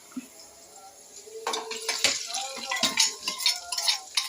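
Tempering being stirred into tomato dal in a pot, with a ladle scraping and clinking against metal in quick irregular strokes, close and fairly quiet over a soft sizzle, with no talking.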